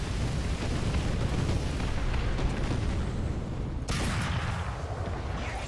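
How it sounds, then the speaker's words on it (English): Loud cannon blast and impact from a War Thunder tank battle as a shell from an M4 Sherman glances off a Panzer III turret, a sharp crack cutting through continuous rumbling engine and battle noise. "Bounced a shell off the back of his turret."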